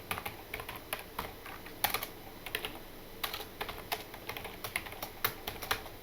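Steady typing on a computer keyboard while writing a C program, quick irregular clacks close up with short pauses, no talking.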